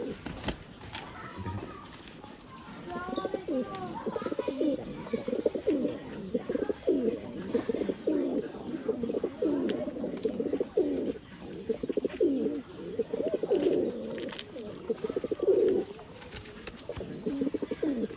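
Pigeons of an old bloodline coo in a loft, soft rolling calls repeating steadily throughout, close and continuous, with faint background activity.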